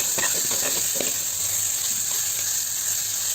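Ginger and curry leaves sautéing in a clay pot, giving a steady, close hiss and sizzle throughout with faint scraping stirs.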